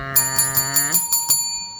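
Bright notification bell sound effect: a quick run of six clear metallic dings in even succession, ringing tones fading after the last strike, no voices.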